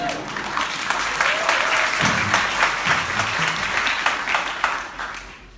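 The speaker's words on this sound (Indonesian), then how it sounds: "Terima kasih Ibu, tepuk tangannya." A church congregation applauds during a sermon, a steady, full round of clapping from the room that keeps going for several seconds before easing off near the end.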